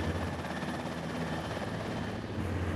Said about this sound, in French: moment où je vais mettre en puissance l'hélicoptère.